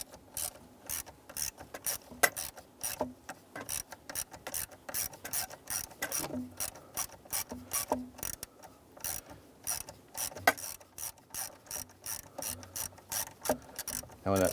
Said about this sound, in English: And then we'll go ahead and tighten up that screw.